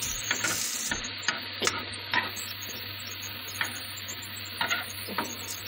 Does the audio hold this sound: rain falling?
no